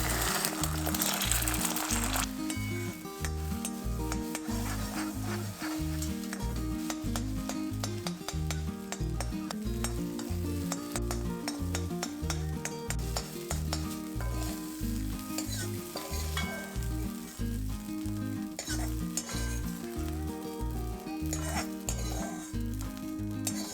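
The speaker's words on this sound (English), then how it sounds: "add the beaten eggs and cook them quickly over high heat" Beaten eggs hitting smoking-hot oil in a kadhai over high heat, fried quickly for prawn fried rice: a loud burst of sizzling at the start settles into steady frying crackle, with rhythmic scraping and stirring of a utensil against the pan.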